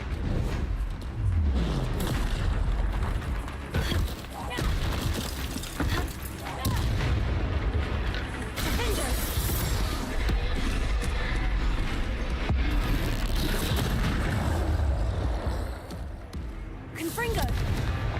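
Confringo fire spell blasts in the Hogwarts Legacy game during a troll fight, a near-continuous barrage of loud booms and crackling explosions with heavy low rumble, a voice shouting spell names over it.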